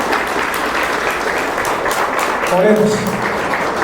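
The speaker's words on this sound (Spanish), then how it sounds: "den un aplauso más fuerte al Señor Jesús" Applause from a Spanish-speaking church congregation continues as a steady, dense wash of clapping at moderate distance, with a voice speaking over it briefly near the end.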